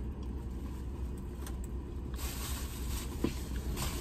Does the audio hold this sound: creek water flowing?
no